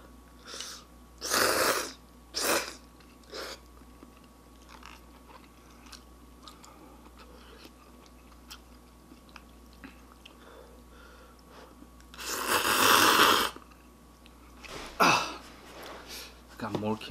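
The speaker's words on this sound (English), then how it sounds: "Sorry if I'm eating too loud." Someone chews cheesy ramyun noodles and kimchi close to the mic. Scattered soft mouth sounds run under a few loud bursts, with talking in between.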